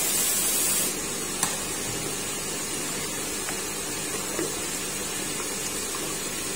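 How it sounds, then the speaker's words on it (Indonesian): Steady broadband hiss of water sprayed onto bloodworms as they are stirred and washed, a continuous wash of spray with a slightly louder burst at the start and faint small clinks underneath. "Semprot sambil aduk biar lumpur-lumpur pada rontok ke bawah."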